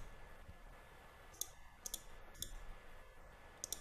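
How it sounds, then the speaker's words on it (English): A computer mouse clicks several times in sparse, irregular succession, sharp little taps over a quiet background with no voices. "You can hide this one just by clicking here"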